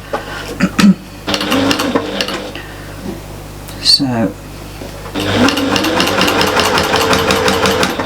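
A sewing machine top-stitches a fabric storage caddy in short, rapid bursts with handling clicks between, ending in a longer steady run while someone talks over it.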